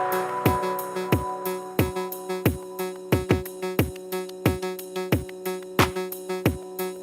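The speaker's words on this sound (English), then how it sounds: "Kind of a really big, thick, dirty kick drum to push through the whole mix" A big, thick, dirty kick drum patched on a Eurorack modular synth thumps in a steady driving pattern, loud and upfront, with sustained synth tones droning underneath.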